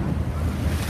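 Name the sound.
ocean waves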